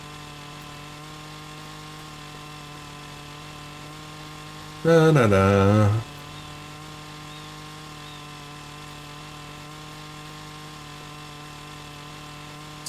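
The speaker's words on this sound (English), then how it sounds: "just going for a chainsaw walk here." Chainsaw in the Farming Simulator 25 video game, a short loud burst of engine revving lasting about a second over a constant low background hum, with a voice briefly humming along.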